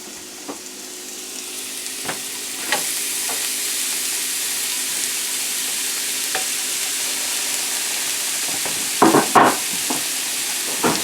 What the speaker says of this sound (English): So you're going to add your cauliflower rice right into the pan.